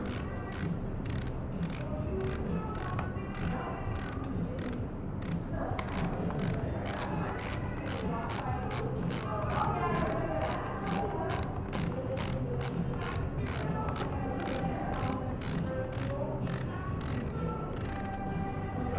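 Ski boot buckles being cranked shut, a long run of rapid ratcheting clicks repeating steadily and close up, with a faint voice now and then.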